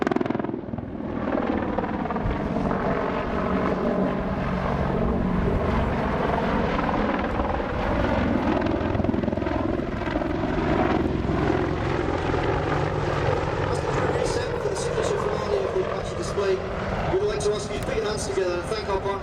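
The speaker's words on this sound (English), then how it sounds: "demonstrating the awesome power of the 2 turbomecha engines mounted either side of the fuselage" An Apache attack helicopter's twin Turbomeca turbine engines roar continuously with a steady rotor thrum and rising whine, loud and close throughout, while a voice speaks over it at an air show display.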